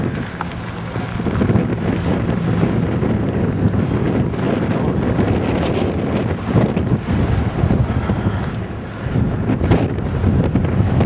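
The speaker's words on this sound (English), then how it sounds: "winds are gusting around 40 miles an hour" Blizzard winds gusting around 40 mph roar loudly and continuously against the microphone, a dense, buffeting rush with brief surges and no voices.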